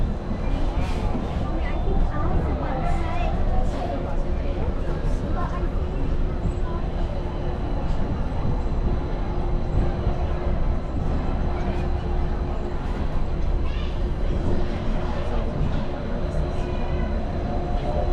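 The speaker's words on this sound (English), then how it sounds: "We're now approaching the Tomorrowland Monorail Station, our final destination." A Disneyland monorail rides toward the Tomorrowland station with a steady, loud rumble and whine heard from inside the car. Nearby passengers talk over the continuous noise.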